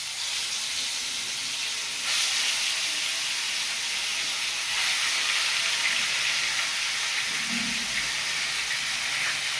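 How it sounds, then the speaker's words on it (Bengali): Tilapia fish frying in hot oil, a steady loud sizzle and hiss that continues without a break. "মাছগুলো ভেজে নিচ্ছি"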